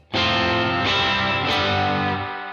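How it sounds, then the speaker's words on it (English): Guitar through a UA Dream 65 amp with modeled spring reverb: a loud sustained chord with two more strums, left to ring and decay slowly. "it's the best modeled spring reverb I've ever had."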